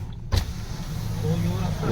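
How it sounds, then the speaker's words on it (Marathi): Vehicles crawl through a heavy traffic jam near Ayodhya during the Kumbh Mela crowds. A low, steady engine rumble follows a sharp thud, with a faint voice underneath. "इथपर्यंत फुल ट्रॅफिक लागलेले आहे चारे बाजू"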